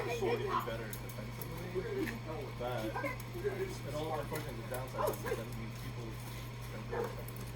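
A puppy whimpers and yips in short repeated bursts under people talking nearby, with a constant low hum in the background.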